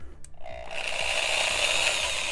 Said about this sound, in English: we're just going to chuck this into the drill